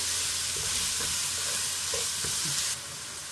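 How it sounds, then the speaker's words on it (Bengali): Chopped onions frying in hot oil in a pan, a steady bright sizzle with occasional soft stirring scrapes, moderately quiet and uninterrupted, with no talk. "এবার দিয়ে দেবো পেঁয়াজ কুচি। একটু ভেজে নেব পেঁয়াজটা।"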